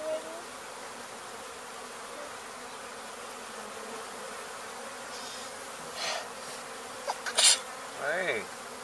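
Honey bees from a swarm being removed in Weslaco, Texas, with three queens present, give a steady low buzzing hum throughout, joined near the end by a few louder close-up bursts.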